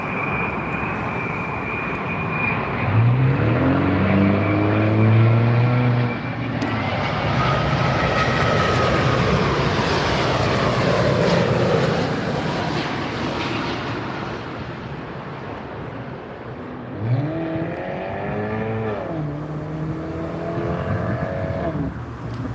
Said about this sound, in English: Here's the British Airways.